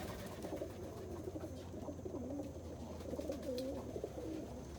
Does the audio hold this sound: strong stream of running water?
no